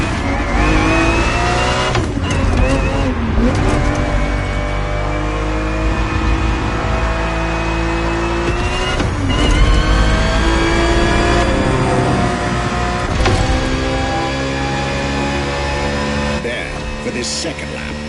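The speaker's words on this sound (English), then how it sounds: "365 GTB4 is the perfect vehicle for you to experience Ferrari racing as it felt back in the 70s" A Ferrari 365 GTB4 from the 1970s races in a video game, its engine revving loud and steady with rising and falling pitch through gear changes for the whole stretch, while a voice talks over it.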